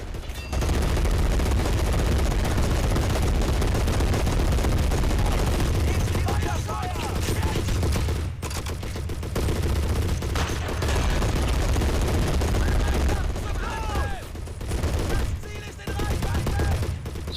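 Machine guns in the video game Men of War fire on a left flank during a Soviet assault on a bridge. Sustained, dense bursts crackle and rattle with booming undertones for the whole stretch, loud and continuous.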